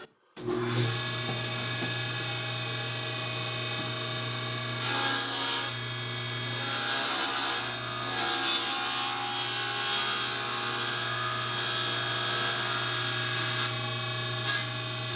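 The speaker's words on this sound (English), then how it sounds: "I can cut that on my table saw" Table saw ripping a short piece of wood in a workshop, a loud steady whine from the spinning blade with the cut's rougher grinding swelling partway through, close and alone.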